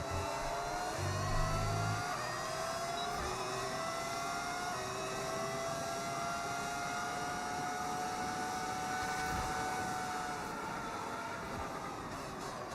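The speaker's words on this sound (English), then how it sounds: "I have a mod that makes it sound like a V10." A modded V10 engine on an F1 car in the racing game F1 26, a sustained high-pitched whine whose pitch climbs and shifts through gear changes, loud and continuous for the whole stretch.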